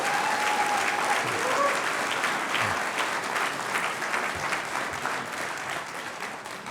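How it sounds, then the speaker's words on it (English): A hall audience at the 2023 Thurgood Marshall Celebration gives sustained applause for honoree John Echohawk, a loud, thick roll of clapping that gradually tapers off, with a few faint cheers mixed in. "One more round of applause for our honoree tonight,"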